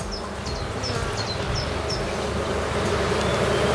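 A colony of dark honey bees hums in a continuous dense buzz close by, with the high calls of birds chirping repeatedly in the background.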